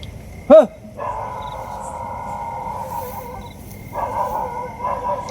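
A dog barks once sharply and close, then whining, dog-like tones rise and fall across the rest of the stretch, fairly loud against a quiet outdoor background.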